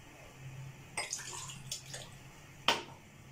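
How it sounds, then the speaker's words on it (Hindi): Water pours from a glass into a cooking pan in a kitchen, with a few short splashing bursts and a sharp clink near the end. "और एक गिलास, दो गिलास पानी डालेंगे।"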